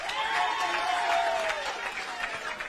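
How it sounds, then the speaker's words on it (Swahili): A crowd at a political rally breaks into applause, a dense, steady wash of clapping that holds for the whole stretch. "Tuwapigie makofi"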